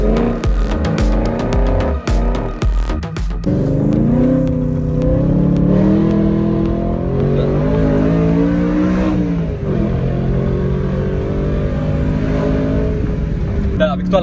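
A straight-piped BMW M3 E92 drifts around a roundabout with a loud, sustained engine howl that rises and falls in pitch as the throttle is worked. Voices speak over the engine near the start.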